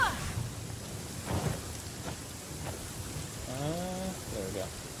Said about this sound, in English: Oh, it's raining over here.